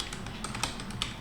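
Rapid, light keystrokes on a computer keyboard as a web address is typed, a quick, uneven run of clicks, close and faint over a low background hum.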